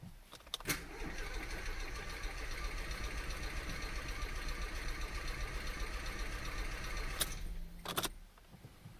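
Ford Fiesta 1.0 EcoBoost engine cranking over on the starter after a sump refit, a steady mechanical churn lasting several seconds, framed by sharp clicks and jangles at start and end, close and moderately loud.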